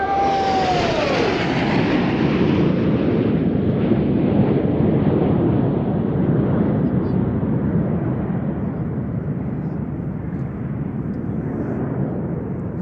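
Red Arrows RAF aerobatic team jets flying a display at the RAF Cosford Air Show pass overhead in a loud, sustained jet roar that gradually recedes into the distance, with wind buffeting the microphone.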